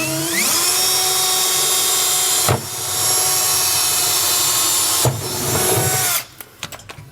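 A power drill bores pilot holes through the bed of a 2022 Ford F-350 Super Duty pickup, a loud sustained high whine in three long runs with short breaks, stopping near the end with a few faint clicks.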